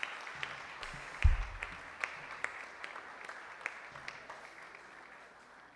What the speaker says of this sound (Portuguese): Uma salva de palmas também para a vida dessa família linda